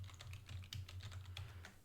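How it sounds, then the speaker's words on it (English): Fingers tap a computer keyboard in quick, uneven bursts of light clicks over a low steady hum, quiet and close, with no voice. "I don't even know why I'm trying to type here."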